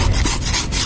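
A short burst of rough, rhythmic rubbing as sandpaper scrapes back and forth on a fan part during an electric fan repair, close and loud.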